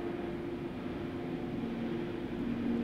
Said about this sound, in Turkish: Bu ses helikopter sesi bu.